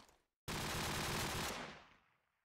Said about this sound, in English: There was an MG around him.